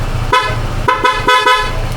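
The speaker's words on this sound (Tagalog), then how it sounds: "hindi ko pala naparinig sa inyo yung tunog ng busina na kinabit natin." A newly installed dual car horn blasts in several short, loud honks close by, a brassy two-tone sound over a running engine idle.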